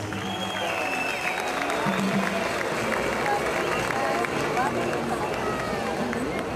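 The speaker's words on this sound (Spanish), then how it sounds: "Démosle la bienvenida a San Pablo, sur de Bolívar, con un aplauso bien grande" An audience at a stage event for the San Pablo, Bolívar municipal band claps in a dense, steady wash of applause, with crowd murmur and some faint voices mixed in.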